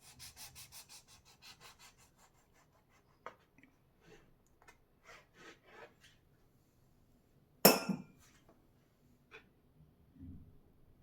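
A knife saws through a soft bun maska with quick, rhythmic back-and-forth strokes at first, followed by sparse faint rubs and one sharp louder scrape partway through, all quiet and close with no talking.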